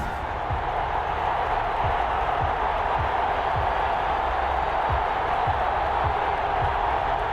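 Stadium crowd in Madden NFL 21 before a Cleveland Browns versus Baltimore Ravens game, a broad steady roar of many voices filling the space, with faint low thumps pulsing beneath it.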